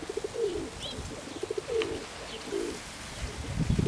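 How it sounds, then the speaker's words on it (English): Doves cooing outdoors beside a New Zealand waterway, soft low repeated coos recurring through the stretch, with a few faint higher bird chirps in the background. "We've got some dovey friends here."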